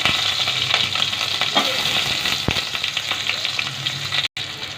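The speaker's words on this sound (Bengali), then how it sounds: "পেঁয়াজটাকে আমি ভালো করে ভেজে নেব।" Chopped onion and green chili sizzle steadily in hot oil with black cumin seeds, the start of a thin rohu fish and cucumber curry. The hiss is loud and continuous with a few stir scrapes, and a brief dropout near the end.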